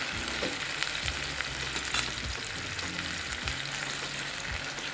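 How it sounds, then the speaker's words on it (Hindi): A steady, close sizzle of frying for a keema-style potato and egg curry, with a spoon stirring and scraping the pan throughout and no talking. "और इसमें चमचा हिलाएं। इसको 2 मिनट तक फ्राई करें।"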